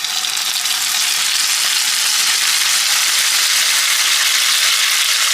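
Ground onion sizzles loudly and steadily in hot oil in a wok, a continuous bright hiss with no voices.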